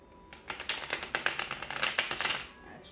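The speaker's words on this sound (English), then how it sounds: "So let me do one more shuffle." Oracle cards are shuffled close by, making a quick run of soft rapid flicks and taps that lasts about two seconds, with faint room noise before and after.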